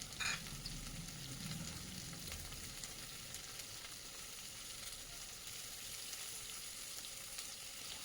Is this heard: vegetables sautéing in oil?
yes